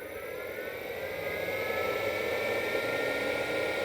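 A WorldDrive Flex Control drive runs an electric motor, which gives off a steady, fairly loud hum and whine with constant tones and broadband hiss. The sound stays even and continuous throughout, with no voices.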